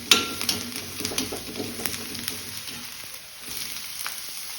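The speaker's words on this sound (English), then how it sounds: "Then high flame fry them." Chopped ginger, garlic, green chili and onion fry on a high flame, a steady close sizzle with light crackles and faint stirring scrapes.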